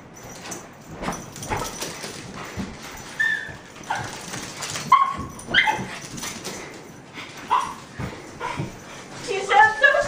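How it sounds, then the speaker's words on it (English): A dog barks, yips and whimpers in short bursts at a salt lick outdoors, mixed with people talking nearby throughout. "I'm going to get eaten by a dog."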